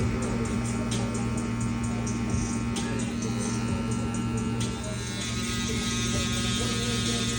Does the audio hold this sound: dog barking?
no